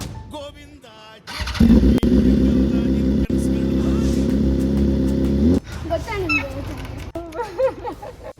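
A motorcycle engine roars loudly for a few seconds, revving steadily before cutting off, with people talking before and after.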